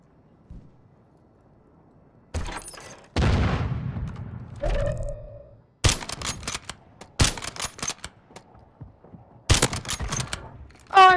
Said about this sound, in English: Oh, I've been sniped.